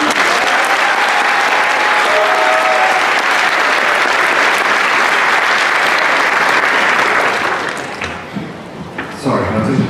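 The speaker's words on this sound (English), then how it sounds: "Could I get a quick round of applause for my 6 speakers?" Loud, dense applause from an athletic awards ceremony audience for the event's speakers, sustained for about eight seconds before thinning out, with a voice emerging near the end.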